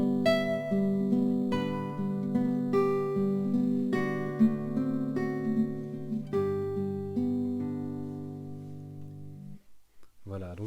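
Nineteenth-century waltz by an anonymous composer played on classical guitar, a lilting melody over ringing bass notes in three-time, close and clear, the final chord fading before a new note starts.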